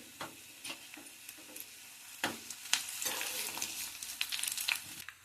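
Tempering spices and curry leaves crackle and sizzle in hot oil, with sharp pops and spatters that build into a busy, steady frying hiss, close by with no talking.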